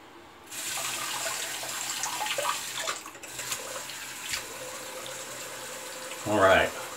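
Tap water running into a sink for rinsing during a wet shave, a steady close splashing stream that starts abruptly, followed by a brief louder gush near the end.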